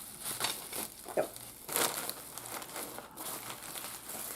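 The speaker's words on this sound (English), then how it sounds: "I think I can unwrap it now." Plastic packaging crinkles and crackles in short bursts as an item is unwrapped, close up, with a few louder rustles between quieter handling.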